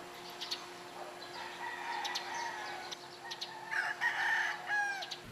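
A rooster crows repeatedly, fairly close, with other chicken clucks and faint bird chirps over a low steady background hum.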